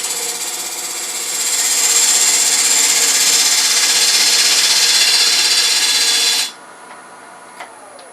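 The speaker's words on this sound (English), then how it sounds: "I'm going to use this wide parting tool to actually bring this tenon down" Wide parting tool cutting a tenon on a Norfolk Island pine blank spinning on a lathe at almost 1,000 rpm: a steady, loud hissing, rasping cut that swells after a second, holds for about five seconds, then stops abruptly, leaving quiet motor hum.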